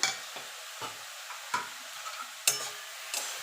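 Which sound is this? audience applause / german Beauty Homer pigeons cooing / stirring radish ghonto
stirring radish ghonto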